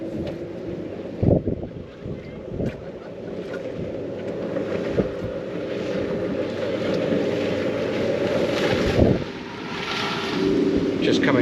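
A motorboat passes close by an anchored sailboat, a low engine drone under gusty wind noise and sloshing water from its wake, with occasional knocks and faint talk.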